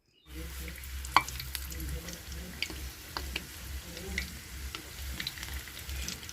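Gujiya stuffed with homemade khoya frying in hot oil, a steady low sizzle with scattered pops and clinks from stirring, sounding close and fairly faint, with no talking.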